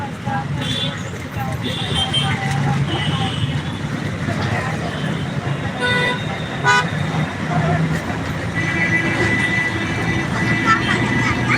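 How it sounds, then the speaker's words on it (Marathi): Busy road traffic in Pune with engines rumbling and a couple of short car horn toots cutting through, steady and fairly close. "आमच्या ड्रायव्हरला सारखा हॉर्न वाजवायला लागतो"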